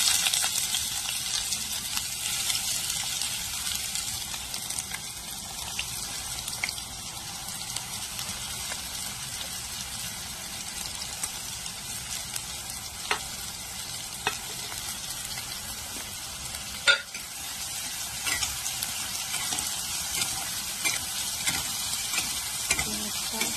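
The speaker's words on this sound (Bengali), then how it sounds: "তেলটা গরম হয়ে গেলে ছোট করে কেটে রাখা পেঁয়াজগুলো দিয়ে দেব।" Finely chopped onions frying in hot oil, a long, even sizzle with occasional sharp stirring clicks and pops, moderately loud and steady with no talking.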